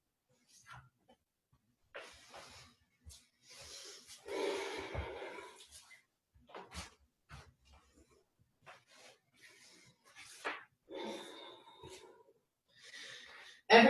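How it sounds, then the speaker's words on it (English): Slow, deliberate breathing during a quiet morning yoga session without music, with soft irregular inhales and exhales, some rough and airy, separated by near silence. "Every breath still full of awareness here, so you're breathing on purpose."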